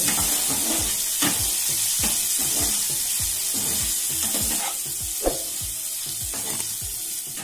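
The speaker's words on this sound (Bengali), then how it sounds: "পেঁয়াজ আর আদাটাকে তেলের সাথে নাড়াচাড়া করে নেব।" Chopped onion and ginger paste fry in oil in a pan, giving a steady loud sizzle throughout, with repeated scraping stirs and the occasional soft clink of a utensil.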